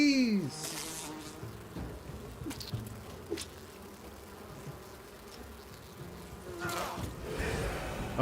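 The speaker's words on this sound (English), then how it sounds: "Bees!" Swarm of bees buzzing in the video game Enshrouded, a steady droning hum that swells and fades around the player, with no talk over it.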